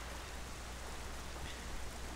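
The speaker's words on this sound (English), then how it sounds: "But this place suffers under dark clouds and rain." Rain falls on an island in the Zelda Wind Waker video game, a soft, steady hiss of rainfall with no other sounds over it.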